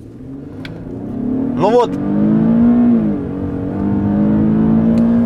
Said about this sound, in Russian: Стартую с двух ног, держу педаль тормоза, поднимаю обороты, вижу, что тачка готова, поехали.